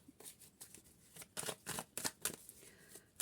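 Cards riffle and slap in quick, irregular bursts, soft and close, with no talking.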